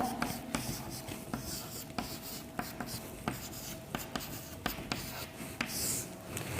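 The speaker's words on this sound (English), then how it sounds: "Now I will write the determinant first." Pen writing out a maths determinant on paper, a steady run of close scratchy strokes with quick taps and pauses between symbols, quiet and unaccompanied by speech.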